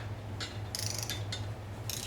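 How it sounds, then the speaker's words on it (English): A torque wrench tightens a screw while a part is installed on a 2010 Harley-Davidson FLHTC motorcycle. Soft, quick ratcheting clicks come in a few short bursts close by, over a faint low hum, with no talking. "it says to torque that down"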